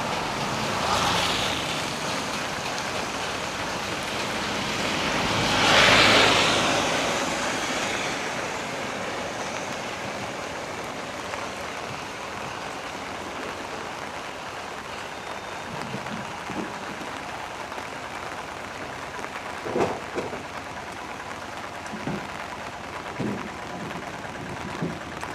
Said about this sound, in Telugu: మే నెల స్టార్టింగ్లోనే ఇట్లా వర్షం పడిందంటే ఇక స్టార్ట్ అయినట్టే రెయిన్స్